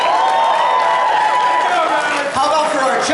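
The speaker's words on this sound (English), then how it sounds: "Let's have one more round of applause for our 5 assistants." A convention audience at a cosplay contest cheers loudly, with whoops and raised voices over scattered clapping in a brief, crowd-filled burst.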